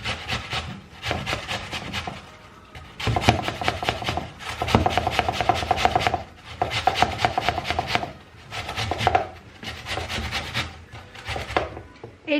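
Peeled apples are grated by hand for an apple pie filling, making a steady rasping scrape in rhythmic bursts with brief pauses between rounds. It is close and fairly loud, with no speech.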